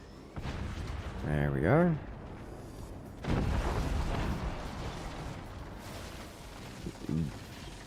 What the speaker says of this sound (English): Incendiary howitzer, always a little terrifying.